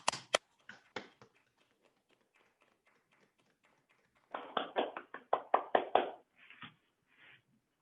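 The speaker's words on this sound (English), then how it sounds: "let's give ourselves and yourselves a round of applause." Unmuted participants in a virtual school meeting clap in scattered, uneven bursts over a call line: a few sharp claps at the start, then a denser round of thin, compressed clapping that trails off.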